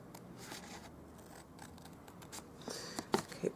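Scissors trim the tabs of a paper wedding-favour lidded box with soft snips, ending in a few sharper, closer cuts.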